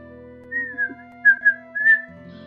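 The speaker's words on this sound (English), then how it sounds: "Sorry about my crappy whistling." A person whistles a short, wavering tune alone, several breathy pitched phrases close to the mic with steady background tones underneath.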